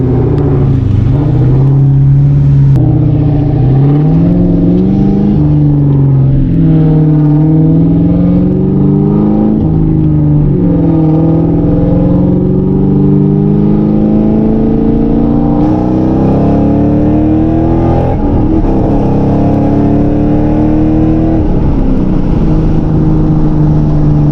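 A boosted two-valve Ford Mustang GT engine pulls hard under acceleration, its loud, close drone climbing in pitch through the gears with brief dips at each shift, sustained throughout.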